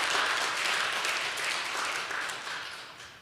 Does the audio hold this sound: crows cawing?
no